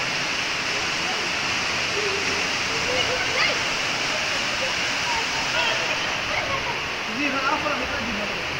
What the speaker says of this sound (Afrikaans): Meyringspoort waterval.